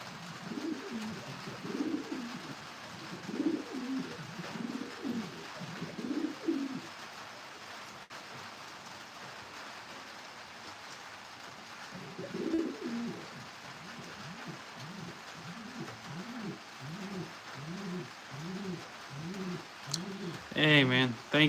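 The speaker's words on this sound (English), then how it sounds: "Or the wild town pigeons?" Pigeons coo in repeated soft, rhythmic phrases nearby, pausing midway and resuming, with a voice speaking over them in places.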